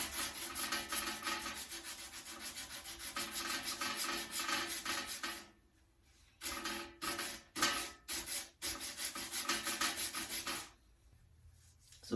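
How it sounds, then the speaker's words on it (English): Hand sanding on a wooden steering wheel, a steady close rubbing rasp that runs continuously, then breaks into short separate strokes with pauses between them. "they fit great to hold them like this and do a little bit of sanding"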